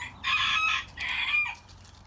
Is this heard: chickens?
yes